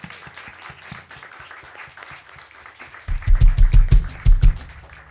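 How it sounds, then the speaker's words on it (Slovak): A crowd at a small live music session for young bands applauds, steady scattered clapping that swells louder and denser toward the end, with cheering over it. "To je veľký potlesk pre vás."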